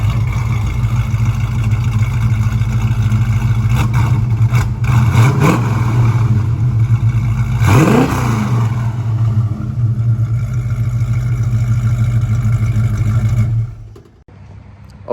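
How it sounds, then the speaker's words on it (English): A 1969 Ford Mustang Mach 1 classic car engine rumbles loud and close with a deep, steady idle, revving up a couple of times in sharp swells before cutting off abruptly near the end. "nothing sounds better than these classic cars"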